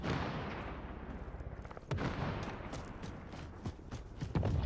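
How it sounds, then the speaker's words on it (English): Gunfire rattles in a video game match, with a dense burst of booming shots followed by sharper scattered cracks, heard at moderate distance without talk. "there's someone shooting, it look like"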